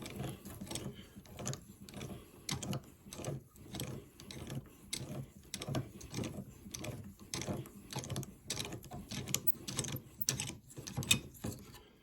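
A ratchet extractor clicks steadily as it backs out a broken automotive bolt, a close, even series of sharp ratcheting ticks in a regular rhythm, repeating throughout at moderate volume.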